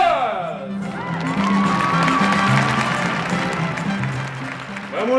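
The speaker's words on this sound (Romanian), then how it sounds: "Să-l aplaudăm și să-l cinstim ca pe un mare viteaz." Audience applause and cheering for a champion during a stage play about Vlad Țepeș, a steady dense wash of clapping mixed with whoops and shouting voices, loud and sustained for the whole stretch.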